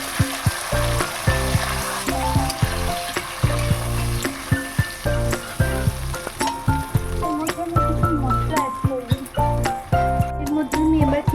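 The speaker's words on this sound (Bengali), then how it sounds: "আমি এখানে একটা পেস্ট বানিয়ে রেখেছি টমেটো পেঁয়াজ কাঁচা লঙ্কা রসুন আদা ও পেস্টটা এবার এর মধ্যে দিয়ে দেবো" A paste of tomato, onion, green chilli, garlic and ginger fries loudly with fried potatoes in a pan. Steady sizzling carries repeated sharp stirring knocks, and a voice talks over it throughout.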